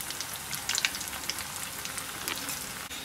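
Bread fingers frying in hot oil give a steady, dense crackling sizzle, with a few brighter pops standing out early on and no voices.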